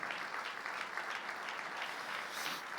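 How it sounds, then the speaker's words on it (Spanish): A church congregation claps in praise during a worship service, a steady, dense wash of applause that stays loud throughout with no voices rising above it. "Fuerte ese aplauso de alabanza al Señor."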